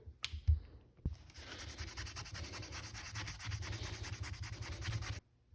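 Abrasive scrubbing on a corroded engine part from a 1997 Mustang Cobra motor rebuild: a couple of sharp knocks, then steady close rasping and rubbing for about four seconds before stopping abruptly.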